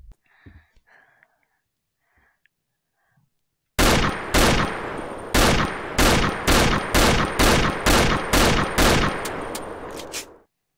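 Video game gunfire, a rapid string of about a dozen loud, close shots in steady rhythm after a few seconds of near silence with faint scattered sounds.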